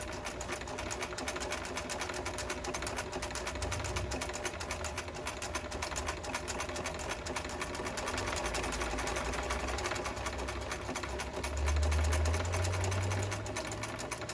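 A home sewing machine runs a seam in one continuous stretch, its needle chattering in a fast even rhythm close by, with a brief deeper whirr toward the end and no talk.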